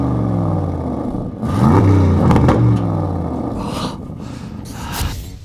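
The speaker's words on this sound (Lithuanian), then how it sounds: "dar pasiklausykim, kokį garsą skleidžia V8" An Aston Martin DBX V8 engine revs up loudly nearby, building from a steady idle into a strong roar with rising harmonics, then settling back to a rumbling idle with a brief final blip.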